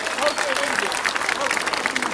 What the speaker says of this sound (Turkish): A'dan Z'ye herkese bir teşekkür alkışı yapabilir miyiz acaba?